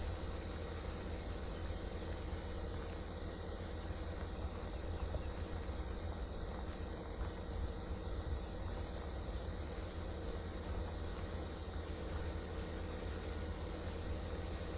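Steady low engine idle from a New Holland T8 tractor in the Farming Simulator 2017 game, a continuous even rumble holding for the whole stretch, with no talk over it.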